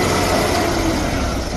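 A CNG tractor truck's engine runs steadily and close by as it drives onto a trailer, a continuous low rumble with no talk.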